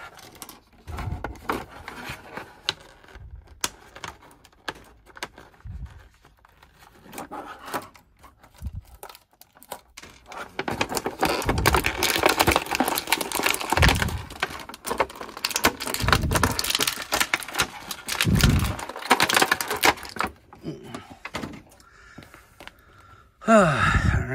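Action figure packaging being cut and torn open by hand, with scattered crinkling, tearing and plastic rustling that grows busier midway, close and fairly loud, without talk.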